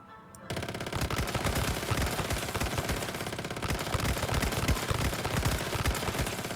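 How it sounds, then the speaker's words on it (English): Rapid, sustained SMG fire in the video game Once Human erupts after a brief quiet moment and continues as a loud, dense stream of shots to the end. "So we'll just straight up start shooting."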